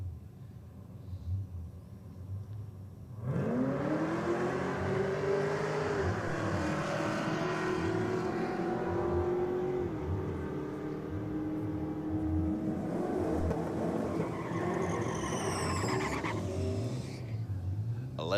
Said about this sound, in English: With the VS Commodore up against the AMG Merc.